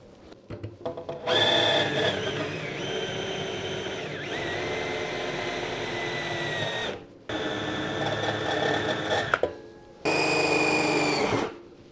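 A small power drill with a 3mm bit whines in three bursts, the first long and steady, the next two shorter, separated by brief pauses of quiet.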